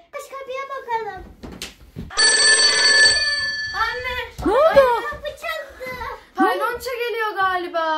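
A telephone-style doorbell rings in a steady burst inside a home, fairly loud, while children and adults talk excitedly before and after it.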